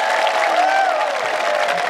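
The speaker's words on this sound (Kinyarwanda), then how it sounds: "Mukomere amashyi menshi ni mu mwishwa." A church congregation applauding during a sermon: a steady, dense wash of clapping and crowd noise with raised voices mixed in, continuous throughout.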